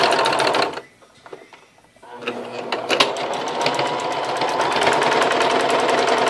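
A sewing machine runs steady rapid stitches down the fold of a French seam, loud and close, pausing briefly before restarting and continuing evenly to the end, with no talk over it.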